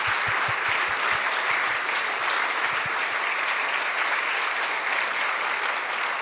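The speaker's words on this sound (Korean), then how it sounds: "다시 한번 우리 목사님께 감사의 박수 드리겠습니다." A church congregation claps steadily after a sermon, a dense, even wash of applause that carries on for several seconds without pause.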